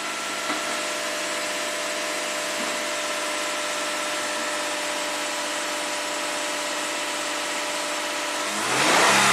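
The V6 engine of a 2015 Lexus IS250 with a high idle hums steadily up close, then revs sharply near the end with a rising roar.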